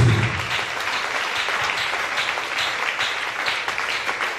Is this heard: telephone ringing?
no